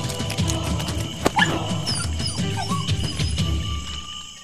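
A dog barks and yips in a Vietnamese animated fairy-tale cartoon, its short barks mixed into a busy bed of music and sound effects throughout.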